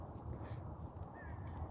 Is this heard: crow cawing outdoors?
yes